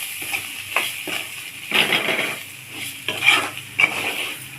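Ginger, chilli powder, sambar powder and salt stirred through an egg and dried prawn curry base, with spoon scrapes in uneven bursts over a soft sizzle, close by.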